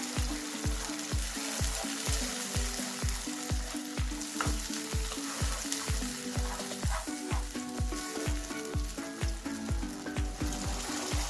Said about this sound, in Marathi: त्यात आपण ही टोमॅटोची पेस्ट घालून घ्यायची आहे। आता ही छानपैकी परतून घ्यायची आपल्याला।